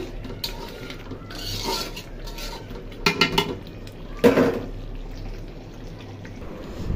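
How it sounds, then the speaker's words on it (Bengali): Beef liver is stirred in a cooking pot, a spoon scraping and clanking against the metal in short rough bursts over a low background hum. "এই যে কলিজার অবস্থা, একটু নাড়া দেই।"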